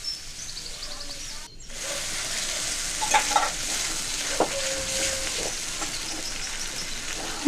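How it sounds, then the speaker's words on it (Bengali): A spice mix with salt and turmeric for a fish curry is stirred and fried in hot oil. There is a steady, close sizzle with scraping strokes of a spoon against the pan and a few brief clinks, and no talk. "মশলাটা ভালো করে কষে নিচ্ছি।"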